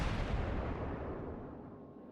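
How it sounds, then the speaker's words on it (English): A heavy naval gun salvo from a warship in World of Warships, a deep booming blast that rolls and slowly fades over a couple of seconds, fairly quiet overall. "Okay, those shots missed, but they were worth a try."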